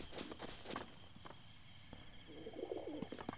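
Game-world pigeon cooing in Zelda: Breath of the Wild, low soft coos near the end over a steady outdoor ambience with light footstep-like taps and faint birdsong.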